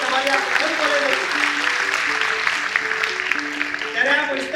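Audience applause at a nursing conference, a steady wash of clapping from a seated crowd with speech running under it.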